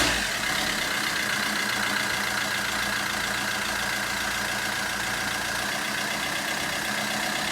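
Vauxhall Combo 2014 1.3 CDTI diesel crew van engine idling steadily, a continuous loud rumbling diesel clatter with no pauses throughout.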